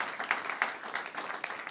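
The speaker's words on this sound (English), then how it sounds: "let's have a big round of applause for all of our panelists here today" Light, scattered clapping from a small audience honoring the panelists at a panel discussion on the U.S. Export-Import Bank, individual claps audible rather than a dense roar.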